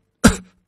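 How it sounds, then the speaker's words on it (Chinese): A single sharp cough after choking sounds up close, loud and abrupt, then fades quickly into silence. "我咳嗽了几声"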